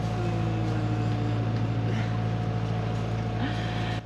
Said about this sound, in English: as you can hear, we are running the engine